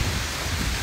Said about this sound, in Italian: Piove in orizzontale.